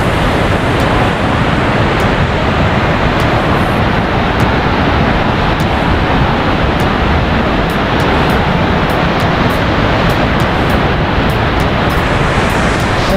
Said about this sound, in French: La fameuse cascade de Mans.